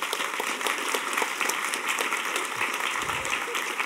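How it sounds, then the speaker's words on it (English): An audience at a hacker conference closing ceremony claps in steady, dense applause throughout, moderately loud and reverberant in a large hall, with a brief low thump near the end. "So a round of applause for that guy"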